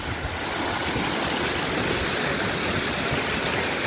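Floodwater rushes through a rain-filled farm field, knee-deep and flowing, a loud, steady broadband roar that stays constant throughout with no talking.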